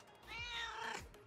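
A pet cat gives a single clear, drawn-out meow close by, rising and falling over about a second in an otherwise quiet room.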